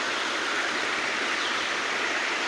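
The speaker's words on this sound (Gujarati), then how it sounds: "તમે જોઈ શકો છો પાણી, વરસાદનું પાણી" Rainwater flows along a small stream after a downpour, a steady, close rushing and gurgling wash that stays even in loudness, with no talking.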